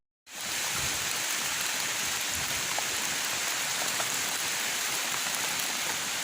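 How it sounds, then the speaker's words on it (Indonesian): Steady morning rain falls on a mountain trail, a dense, even hiss of drops that starts abruptly and holds constant throughout, close and fairly loud, with no voices. "Kondisi di pagi hari ini hujan guys."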